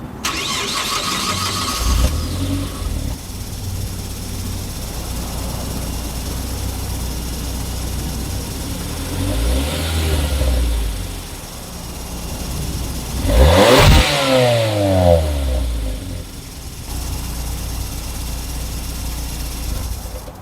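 A 2010 Mazda Mazda5 with a manual gearbox cranks and fires up, settles into a steady idle, then gets a few sharp revs that climb and fall back, loud and close with no talking.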